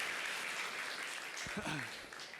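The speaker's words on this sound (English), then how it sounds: "Let's give Jarkko a round of applause." Security conference audience at BSides Tallinn applauds a speaker after his talk, a steady wash of clapping heard at a distance with a brief voice rising over it partway through.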